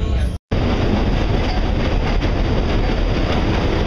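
Train riding the railroad through Copper Canyon, a steady, loud rumble of wheels and carriage noise filling the whole stretch, broken by a brief dropout near the start.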